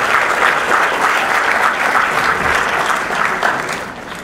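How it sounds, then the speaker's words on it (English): Steady applause from an audience in a hall fills the whole stretch for the graduating 2012 class of a university medical faculty, dense and even with no voices over it. "give a round of applause to the class of"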